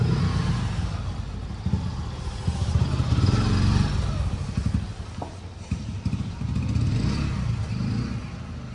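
A 2020 Swaraj 744 FE four-wheel-drive tractor engine runs at steady idle, a continuous close, loud diesel chug with a slight clattering rattle and no talking.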